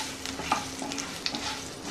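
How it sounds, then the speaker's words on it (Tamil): Asafoetida and turmeric powder frying with mustard seeds in hot oil for a ginger garlic pickle, stirred in the pan; a steady close sizzle with scraping stir strokes and no talking. "எண்ணெயில் போட்டு நல்லா அந்த கடுகோடு சேர்த்து இதையும் நல்லா பொன்னிறமாக வறுத்துக்கோங்க."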